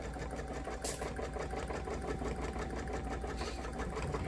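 A Luminaire 2 sewing machine stitching a hexagon quilting design with metallic thread at its slowest speed, giving a steady, even mechanical whir close by with a faint rhythmic pulse and no talk.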